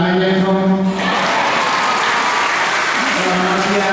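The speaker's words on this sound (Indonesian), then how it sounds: "Sekali lagi tepuk tangannya dong." Parish congregation applauding at an Easter morning Mass in a church, a broad sustained wash of clapping that swells after a second and carries on steadily, with a sung or spoken tone lingering underneath at the start and end.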